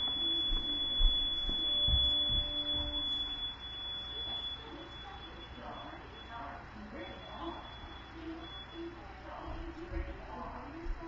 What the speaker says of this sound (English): hold on, my alarm's going off.